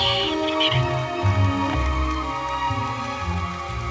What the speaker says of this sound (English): Everything that lives here has to put up with the downpour.